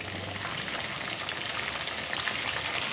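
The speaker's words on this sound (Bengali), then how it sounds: "তেলটা গরম হয়ে গেছে, এর মধ্যে ওই বেগুনগুলো ভাজার জন্য ছেড়ে দিলাম" Eggplant pieces fry in hot oil with a dense, even crackling sizzle that stays steady and close throughout, no voices.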